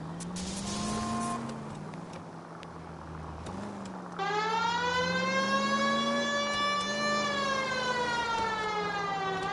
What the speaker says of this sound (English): The siren, Cole, use it.